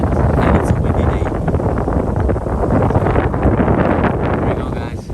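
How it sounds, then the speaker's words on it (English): Wind blowing at Lanikai Beach in Hawaii on a quiet, windy day: loud, steady buffeting and rumble against the microphone that holds on without a break for the whole stretch. "It's really quiet and it's a windy day."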